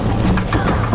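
A horse galloping in Red Dead Redemption, loud rapid hoofbeats across a short burst with a game soundtrack and a voice layered over it.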